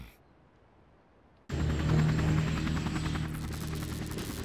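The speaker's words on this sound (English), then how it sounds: "Chief, helicopters are approaching with Malagato's banners." Cartoon helicopters approach a military base. After a quiet start, a loud rotor drone cuts in abruptly and keeps going steadily, with a rapid chopping pulse and a whining hum above it.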